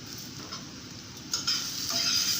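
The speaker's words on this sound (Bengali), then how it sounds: "এবার আলুগুলো হালকা ভাজা হয়ে গিয়েছে, এবার দিচ্ছি টমেটো কুচি" Potatoes with chopped tomato fry in a pan, giving a constant close sizzle with a louder hiss rising midway as more moisture hits the hot oil.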